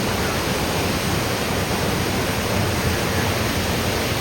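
Steady, loud rushing of whitewater from river rapids beside a hiking trail on La Plata Peak, Colorado, fills the whole clip, a dense broadband roar with no pauses and no voices.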